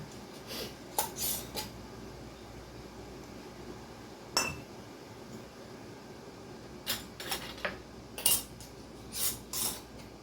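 Metal lids and rings are fitted and twisted finger tight onto glass canning jars of Southern chow chow, producing scattered light metallic clinks and scrapes in brief clusters against a quiet room hum.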